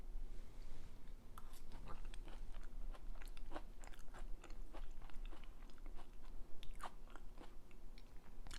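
Close, wet chewing and soft crunching of a bite of low-fat, sugar-free vegan apple dessert, steady mouth sounds repeating for several seconds with no talk.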